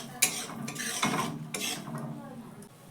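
A kadai is set aside on a gas stove with several metallic clanks and scrapes of metal on metal. The knocks are close and sharp, separated by short pauses, with a faint background hiss and no talk.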